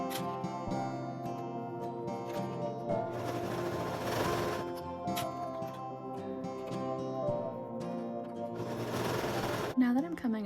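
A sewing machine stitches a neckband onto a t-shirt, running close in bursts of rapid mechanical chatter separated by brief pauses, with a person talking alongside.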